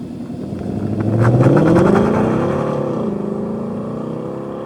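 A 2024 Ford Mustang GT with an automatic gearbox revs up close by, its engine note climbing steadily in pitch, then easing back to a steady drone. No voices are heard.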